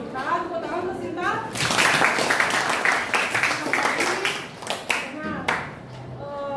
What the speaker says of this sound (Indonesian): Tepuk tangan untuk Sinta.